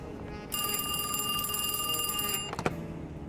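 In the video game Alone in the Dark, a telephone bell rings loudly in one long trilling burst that starts abruptly and cuts off, followed by a short clunk as it stops.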